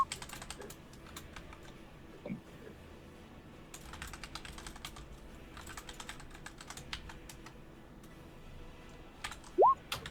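Typing on a computer keyboard, rapid bursts of light key clicks in short clusters separated by pauses, close and fairly quiet against a faint background, with a brief higher tone near the end.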